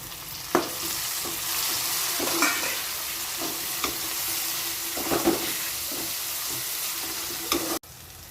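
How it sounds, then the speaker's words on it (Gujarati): Onions and tomatoes sizzle in a pan for Maggi masala rice, a continuous close frying hiss broken by several spoon clanks and stirring scrapes, then a sudden cut at the end. "થોડી વાર ડુંગળીને સાતળી દઈશું. હવે આપણે ઉમેરશું ટમેટા."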